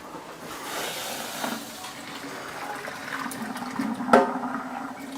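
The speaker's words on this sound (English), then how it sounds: "Drain out the hot water and shred it out." Hot water drains out of a pot that has been boiling on a stove, a continuous splashing pour with a brief louder gush near the end, no talking over it.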